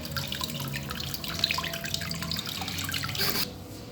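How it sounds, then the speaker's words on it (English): Scent leaves being washed under a running tap, a steady close stream of water with splashing and dripping as the leaves are handled beneath it. "I'm actually going to be washing it"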